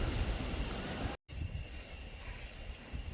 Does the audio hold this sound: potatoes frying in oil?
no